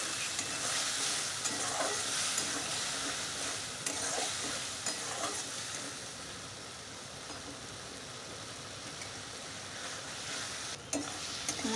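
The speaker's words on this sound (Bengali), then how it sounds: "এবার মশলাটাকে ভালো করে কষিয়ে নেব" Spice paste stir-fried in oil for a light rohu fish curry, a steady close sizzle and frying hiss with occasional scraping stir strokes, no voices.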